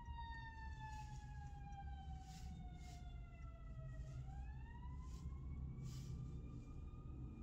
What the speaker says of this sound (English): there are a lot of sirens